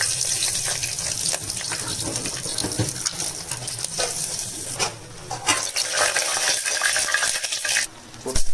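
Cinnamon, cloves and bay leaf frying in hot oil for mushroom biryani, a loud, close, constant crackling sizzle with stirring scrapes and bursts of spattering.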